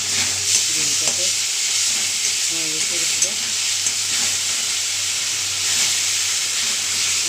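A paste of flat beans and green chillies fries with onion in a hot pan, giving a steady close sizzle and hiss with a few soft stirring scrapes throughout.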